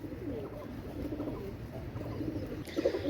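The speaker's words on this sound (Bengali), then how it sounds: "এক জোড়া কেটিএম টেডি কবুতর মাশাল্লাহ" A pair of KTM teddy pigeons cooing softly, low rolling coos repeating under a steady background murmur, close by with no talk.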